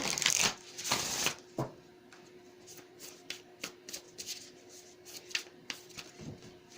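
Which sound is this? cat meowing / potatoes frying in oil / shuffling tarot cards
shuffling tarot cards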